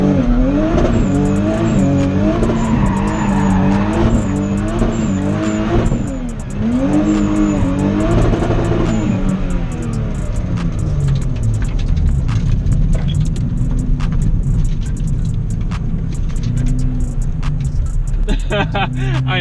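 A VR30-swapped Nissan 370Z drifts loudly nearby, its engine rising and falling in long wavering revs while tires squeal steadily throughout the run, and a voice can be heard talking now and then.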